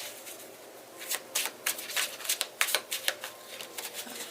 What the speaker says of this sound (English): Alright, 3 shuffles after this one.